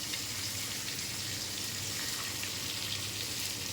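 Hilsa fish frying in a hot pan for a tomato bhuna, giving a steady, even crackling sizzle that holds at the same level throughout with no voices.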